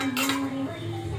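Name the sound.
lid being placed on pan of frying mutton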